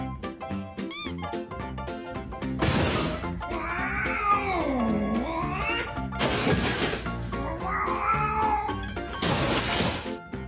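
Cats meowing and yowling in a caterwaul over a busy, loud background of music and clatter, with long wavering cries that rise and fall.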